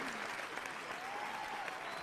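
Steady applause from an audience at an awards ceremony, a continuous even patter of many hands clapping at moderate distance, without a clear start or end.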